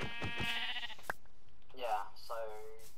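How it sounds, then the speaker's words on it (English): Sheep in the Minecraft video game bleat twice, short wavering calls heard close after a person speaks over game audio. "Sheep!"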